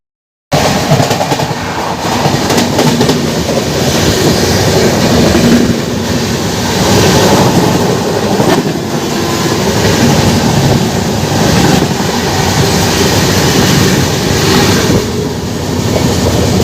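The Tirupati–Santragachi Humsafar Express rushes past on an Indian railway line while overtaking, a loud, steady roar of wheels and rattling coaches with clickety-clack rhythm sustained throughout.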